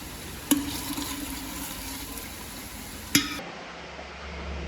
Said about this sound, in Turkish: Salçayı da güzelce kızartacak.